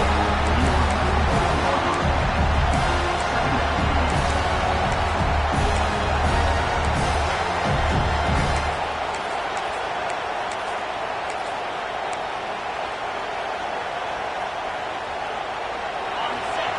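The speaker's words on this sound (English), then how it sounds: "This crowd trying to make life miserable for this offense." A Penn State football stadium crowd roars loudly and steadily, then drops to a lower, more distant rumble partway through, while a commentator talks over it.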